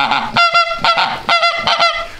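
Geese honking loudly and close during a goose hunt, a rapid series of repeated nasal honks in uneven bursts with no talk over them.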